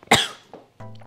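A sharp, loud cough after choking on a cold drink, followed by a smaller second cough, then a short voiced sound, close up.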